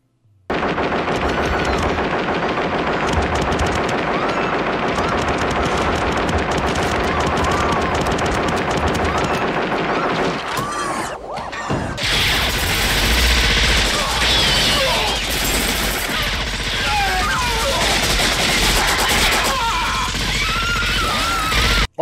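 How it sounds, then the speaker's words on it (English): Machine gun fire tears through a scene in the film RoboCop 2. Sustained, rapid bursts with crashes and smashing run loud for the second half, after a tenser stretch of music and ambience. "The man is using a machine gun"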